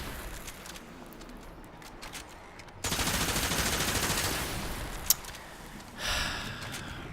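Sentient scout gunfire in Warframe: a loud sustained burst of rapid fire begins partway through and rolls on for several seconds, with a sharp crack near the end and another flare of shots after, against a quieter ambient bed.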